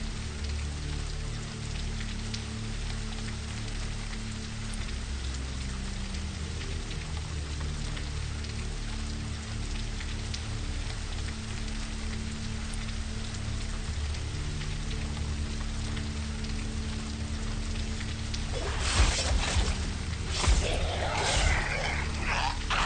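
Steady rain in the rain district of the horror video game Sleep Awake, a continuous patter of drops throughout, with a few brief louder clatters near the end.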